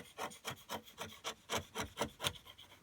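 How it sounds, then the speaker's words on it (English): A hand file skimming along a wooden model racing car, about ten steady rasping strokes in an even back-and-forth rhythm, close and clear with no talking. "I think a file would be better. So I'm just going to skim along it,"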